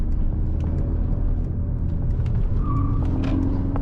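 A 2025 Mercedes-AMG C63 S E, the 680 hp hybrid, takes a corner hard in race mode. Its engine gives a loud, steady, close drone with a brief rising whine partway through, and no one speaks.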